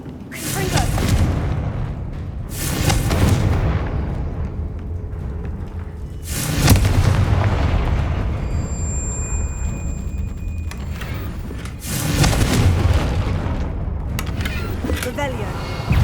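Confringo spell explosions in the Hogwarts Legacy video game, four loud booming blasts spaced a few seconds apart, each with a sharp onset and a rumbling tail, over background game ambience.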